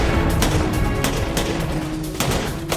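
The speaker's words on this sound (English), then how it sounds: "Responding to the gunfire" Gunfire in a WWII Normandy battle scene, a rapid series of sharp rifle and machine-gun cracks ringing out over a dense rumbling background, loud and close.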